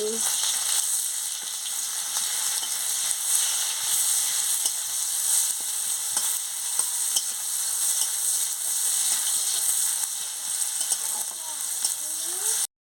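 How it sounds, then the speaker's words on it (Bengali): Chopped onion fries in hot oil with a steady, bright, continuous sizzle, broken by faint scattered clicks of stirring throughout. "তেল গরম হয়ে গেছে আমি পেঁয়াজ কুচিটা দিয়ে দিচ্ছি দিয়ে ভালো করে ভেজে নিচ্ছি"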